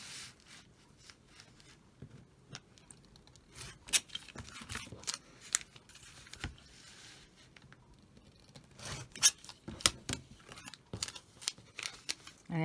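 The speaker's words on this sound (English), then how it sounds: "I go ahead and I trim these little corners here" Small scissors snip the little corners off a paper piece in quick, faint, close clips scattered over a quiet background, with no speech.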